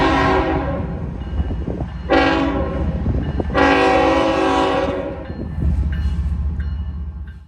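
An eastbound freight train, half intermodal and half manifest, departs with loud, close horn blasts of varied length over a continuous low rumble of rolling cars.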